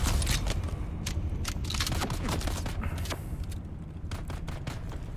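Gunfire in the Dune video game: a shotgun and other weapons crackling in quick, sharp shots over a steady rumbling background, moderately loud and close.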